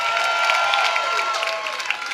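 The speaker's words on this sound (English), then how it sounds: "Give yourselves a big round of applause" An audience claps and cheers, a dense continuous patter of applause from a crowd that holds steady and starts to thin slightly toward the end.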